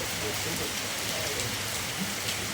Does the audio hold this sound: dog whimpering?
no